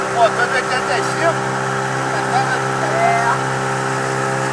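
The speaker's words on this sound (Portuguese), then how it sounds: "Aquela lanchona lá de motor de 85." Large motorboat with an 85 hp engine on a reservoir, a steady mid-pitched drone holding throughout under loud nearby chatter.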